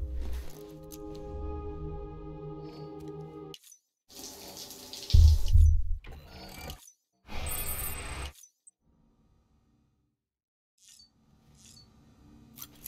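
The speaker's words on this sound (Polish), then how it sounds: "Jeszcze w sumie faktycznie można by było wziąć prysznic" Water running from a shower in the video game Death Stranding, in short bursts of splashing spray separated by silent gaps, fairly close and moderately loud.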